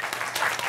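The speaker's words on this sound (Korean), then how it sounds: "박수!" A short, soft burst of audience applause in a classroom-style talk, a brief patter of hand claps lasting under a second.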